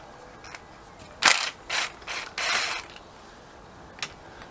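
Ratchet clicking in short bursts as a foot peg bolt is loosened on a Harley-Davidson Sportster XL1200R motorcycle, four or five quick close ratcheting runs, then a single faint click, no talk.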